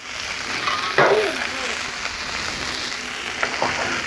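Onions frying on a Blackstone griddle give a steady, close sizzle with a few scraping clatters of a spatula against the flat-top, while a voice speaks briefly underneath.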